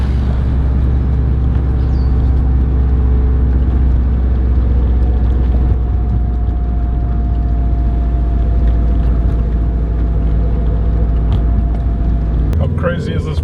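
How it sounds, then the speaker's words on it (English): Car interior on a drive through J-Bay, with steady low engine and road rumble filling the cabin for most of the stretch, a faint hum running underneath, and a brief rustle near the end. "I'm going to take you guys for a quick drive, show you what's what."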